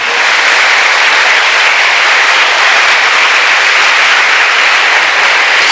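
A church congregation applauds loudly, a dense, even roar of clapping that holds steady without pause.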